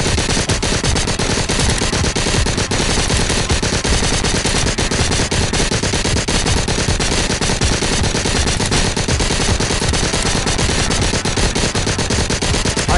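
Sustained, dense automatic gunfire from shooting zombies in the VR game Arizona Sunshine 2, rapid loud bursts running continuously without pause.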